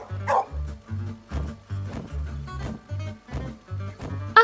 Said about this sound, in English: And here's Woof